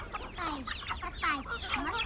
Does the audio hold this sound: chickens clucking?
yes